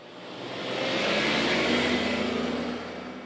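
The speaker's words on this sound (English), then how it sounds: "the revving of a truck engine fades" A truck engine revs at the gates of a long-running Savannah gun club, swelling into a steady broadband roar that holds for a couple of seconds and then fades away.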